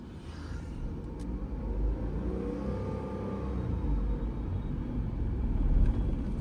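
A car pulls away uphill after the handbrake is released, its engine rising from a low rumble into a louder accelerating drone that swells toward the end, with no one speaking.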